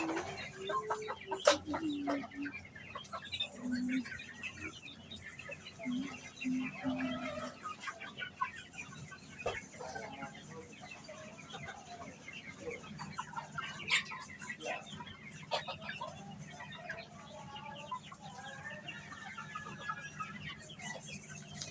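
Chickens on a poultry farm cluck and murmur in an ongoing chorus, with a few sharper calls and scattered chirps close by, moderately quiet with a faint background hum, and no talking.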